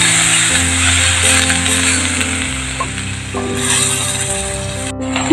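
Papaya flowers being stir-fried in a pan in a home kitchen, a steady loud sizzle with shifting tones from stirring, continuous throughout with no talking.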